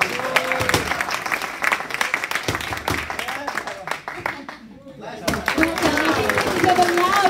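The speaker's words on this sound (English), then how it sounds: "Give a loud round of applause." Applause from an audience at a sports club's annual award ceremony and kit launch. Uneven, lively clapping is mixed with crowd noise and speech, dips briefly, then swells again with talk over it.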